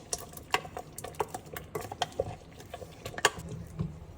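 Ground coconut and cumin paste is stirred into a yam curry in a pot, with a spoon knocking and scraping against the pot in irregular, fairly quiet clinks, no talking.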